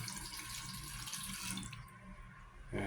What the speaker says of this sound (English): this for the faucet, this water pressure was okay